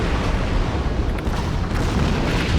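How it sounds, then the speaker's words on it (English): Dense, continuous rumbling booms of heavy battleship gunfire from the Kawachi in the video game World of Warships blur together into a loud, sustained roar with no pauses. "Oh, look at that gunfire."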